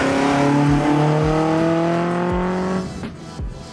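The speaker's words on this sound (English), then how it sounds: "This is the 1967 Giulia Sprint GTV." A 1967 Alfa Romeo Giulia Sprint GTV with its 1.6-liter twin-cam inline four runs on a race track, the engine loud and close in a sustained high drone with gear-change dips, then fading as it pulls away.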